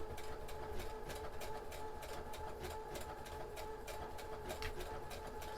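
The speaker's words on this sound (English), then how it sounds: "So all machines, especially if it's a computerized one, will absolutely have an edge finishing stitch." A sewing machine runs continuously as it sews an edge finishing stitch on fabric, a close, even mechanical whir with a quick regular ticking throughout and no talking.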